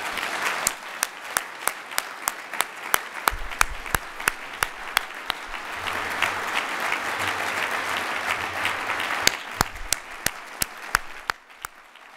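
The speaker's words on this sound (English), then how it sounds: "Give a round of applause to our dean." Prolonged applause from an audience at a law school building dedication, with sustained clapping from a large crowd for about twelve seconds, sharp individual claps standing out nearby before it tapers off at the end.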